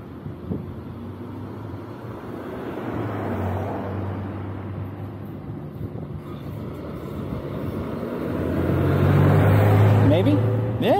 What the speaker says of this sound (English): That's a cool little car.